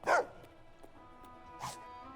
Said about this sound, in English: Where'd the dog bark?